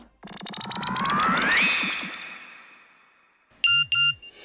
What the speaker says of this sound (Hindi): फोन बज रहा है कब से, देखते काय को नहीं?